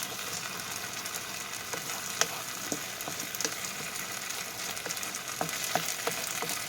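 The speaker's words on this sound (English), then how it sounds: "So I'm just going to just keep stirring that on the edges there." Chicken fried rice sizzles steadily in a frying pan, a continuous bright frying hiss with scattered small clicks and scrapes as it is stirred around the edges, close and alone with no voices.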